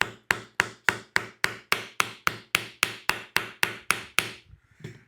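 Stainless steel frets are hammered into the neck of a USA Fender Strat, about fifteen sharp, evenly spaced blows in quick succession, close and crisp, ending in softer shuffling.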